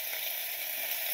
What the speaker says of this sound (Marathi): जी आई वस्तू एक एक टाकते फ्राय करून घेते